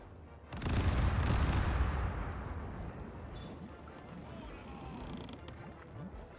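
Ship cannons firing a broadside in the pirate game Caribbean Legend: one heavy, booming blast that rolls into a long rumbling decay, loud and close, fading into a steady low background.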